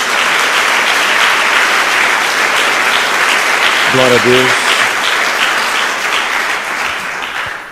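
A church congregation claps loudly and continuously after a sermon's Bible reading, a dense wall of applause, with a voice calling out a brief praise over it midway.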